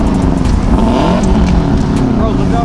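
Cars rev and rip at an outdoor car meet, a loud continuous engine roar with rising and falling pitch, close by and steady, with people talking over it.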